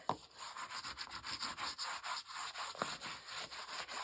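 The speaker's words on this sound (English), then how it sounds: "Kind of burnish it down a little bit." Soft, rhythmic rubbing strokes as paper is burnished down onto a handmade ladybug-themed album, quiet and close, repeating back and forth steadily with no speech.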